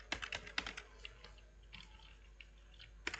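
Quick bursts of typing on a computer keyboard while entering code, close and crisp, with clustered keystrokes, a quieter pause in the middle and a final cluster of clicks, no talking.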